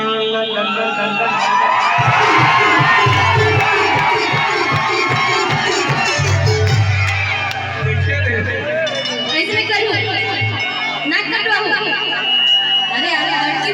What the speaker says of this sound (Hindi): एक बार फिर से चिल्लाओ ऊपर से ज्यादा आवाज आना चाहिए